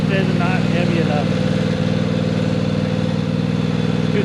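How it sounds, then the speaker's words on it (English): A lawnmower engine runs loud and close with a steady mid-pitched drone and a rattly edge. It labours as it strains to pull a heavy load, with a brief voice early on. "this lawnmower just is not heavy enough"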